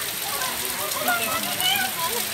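Steady Christmas rain in Itapetim, Pernambuco, Brazil, hisses and patters on surfaces nearby, with a leak dripping, while voices talk over it.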